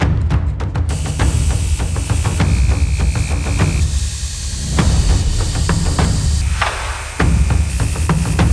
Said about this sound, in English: I'm going to grind it off real quick, just so when I put it in our oven, it doesn't smell so bad